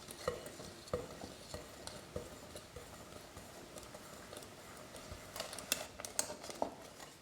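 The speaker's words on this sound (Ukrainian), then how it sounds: "Тепер я додаю сухі інгредієнти та замішую тісто." Chocolate cake batter is mixed into dry ingredients by hand, with soft irregular scraping and tapping strokes in a bowl, close and fairly quiet, a few sharper clicks near the end.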